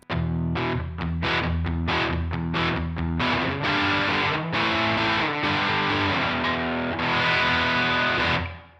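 An electric guitar with a humbucker pickup runs through a distortion pedal, a run of sharp, saturated chords and notes, first in quick choppy stabs, then longer sustained ringing phrases, loud and alone.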